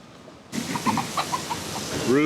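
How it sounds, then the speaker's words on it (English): Wild fowl cluck in short bursts on a Key West, Florida street, then a rooster starts to crow near the end, with faint outdoor ambience and some talking. "Roosters. Absolutely everywhere. They're wild, they roam."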